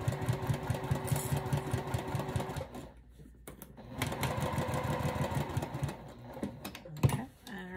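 A sewing machine stitching a zipper pouch, running in fast rhythmic bursts with a brief pause midway before resuming, close and moderately loud with faint handling noises.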